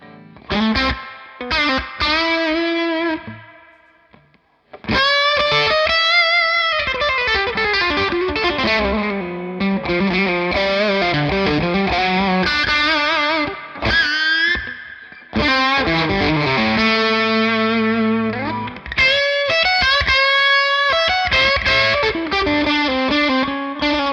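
A distorted electric guitar through a Victory RK50 Richie Kotzen Signature amp with heavy gain and a wash of reverb rings out chords and melodic lines, loud and continuous with brief pauses.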